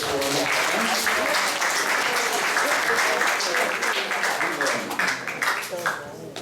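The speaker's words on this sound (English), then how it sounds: "Let's give a big round of applause for Adigadadhar" Temple audience at a Sunday Hare Krishna class giving a big round of applause for the speaker, sustained heavy clapping that thins slightly toward the end, with voices and faint singing or chanting mixed underneath.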